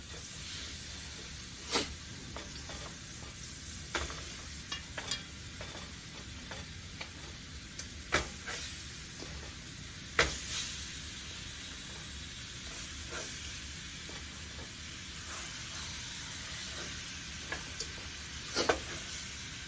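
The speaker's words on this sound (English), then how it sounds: "We're going to let this here fry on up." Neck bones frying in a pan for curry, a steady loud sizzle and hiss with occasional sharp pops and crackles scattered throughout, no talking.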